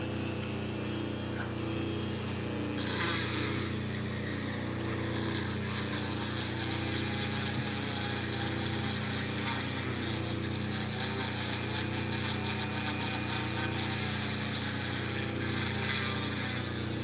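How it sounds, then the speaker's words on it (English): A Dremel rotary tool grinds steadily while extracting gems such as green garnet from rock, giving a continuous whining buzz with a brief louder bite near the start and no talk over it. "You like the louder Dremel, Brianna?"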